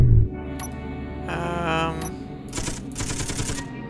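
Chain guns firing aboard a ship in Space Engineers: a loud thump opens, then humming machinery and rapid rattling bursts of fire come in two clusters toward the end.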